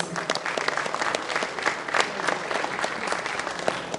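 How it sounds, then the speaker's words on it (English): An audience at a film company press meet gives a dense, continuous round of applause, with many hands clapping at once and filling the room. "can I hear a huge round of applause, please?"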